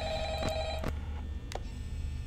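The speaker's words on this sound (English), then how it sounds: "Another call from phone guy?" A telephone rings in the horror video game Five Nights at Freddy's, set in the office of Freddy Fazbear's Pizza. A few ringing bursts sound steadily over a constant game hum, with no one speaking.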